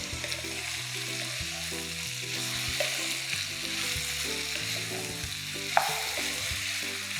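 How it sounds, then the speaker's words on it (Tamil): Coconut chicken fry, Kerala style, being stirred in a hot pan with grated coconut: steady close sizzling with soft scraping strokes of the spoon throughout, plus a couple of sharper clinks, no talking. "நல்லா கலந்து விட்டுக்கலாம்."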